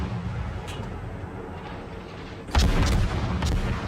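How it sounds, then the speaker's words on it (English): Heavy naval guns in World of Warships boom in a sudden loud volley partway through, following a quieter stretch of game rumble and distant firing, with further blasts trailing off. "So I go ahead and open up on guns, and I'm waiting for a decent opportunity to use my torpedoes."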